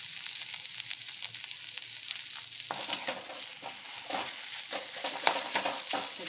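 Food being stirred in a pan on a home stove while cooking a lunch dish, steady scraping and soft sizzle with a few sharper clinks, close and moderately quiet, no talking.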